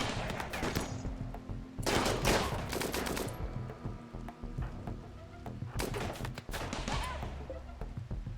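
Steel turret gunfire in RimWorld: bursts of rapid shots cluster around two seconds and again near six, set against a low background din while someone talks over the action.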